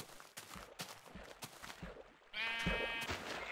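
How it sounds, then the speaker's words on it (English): Sheep in the Minecraft video game bleat, a rising harmonic cry near the end following a run of sharp in-game hits and clicks. "So, we're going to kill a few more sheep."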